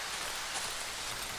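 Rain falling in the survival horror game Darkwood, a steady dense hiss of drops that holds at an even level throughout, with no voices.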